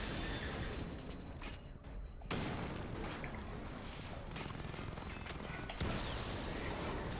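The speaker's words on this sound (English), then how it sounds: "Destroy targets to charge up weapon and activate missile barrage." Weapon fire and explosions from targets being destroyed in the Batman Arkham Knight video game, a dense continuous barrage of booms and mechanical clatter with sharp bursts, loud and steady without speech.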